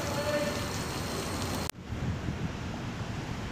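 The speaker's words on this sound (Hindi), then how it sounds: "बहुत ज़्यादा बारिश है" Heavy rain pours down on a street in Makkah as a dense, hissing downpour. Partway through, the sound drops abruptly, then continues as a softer, steady patter.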